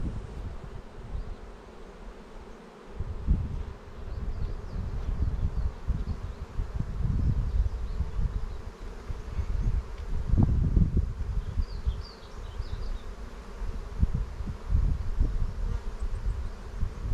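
Honeybees swarm around an open beehive frame, filling the air with a steady, close buzzing drone that rises and falls with passing bees, alongside faint handling noises and no speech.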